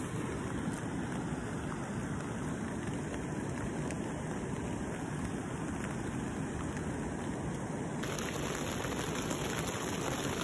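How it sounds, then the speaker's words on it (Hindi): Steady rain pours down outside a tent at a night campsite near Kullu Manali, a dense, continuous hiss of drops drumming close and loud with no break. "और अभी आ रही बाहर बारिश"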